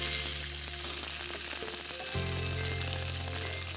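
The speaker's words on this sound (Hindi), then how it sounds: "इसको थोड़ी देर ग्रिल होने दीजिए।" Chilli polenta sizzling on a very hot grill pan, a steady broadband frying hiss held close and constant for the whole stretch, with a low hum shifting partway through and no talk.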